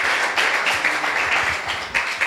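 A church congregation claps together in praise, a dense burst of fast, uneven handclaps that swells and continues close by.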